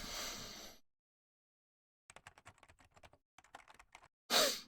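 Keyboard typing effect from the Higurashi visual novel game: two runs of rapid, light key clicks separated by short pauses, with a brief burst of static-like noise at the start and another at the end.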